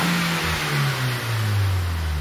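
A warmed-up Nissan Sentra SE-R 2.5 engine idles with a steady, even hum; its pitch rises and falls slightly, with no voices over it.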